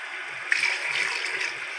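Water from a glass pours into about a kilogram of meat in a pressure cooker, a brief steady splashing stream that is close and moderately loud, with no voices.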